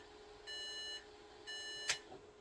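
A newly built gaming PC beeps from its motherboard, two evenly spaced, clear electronic tones about half a second long each, followed by a brief click, in a quiet room.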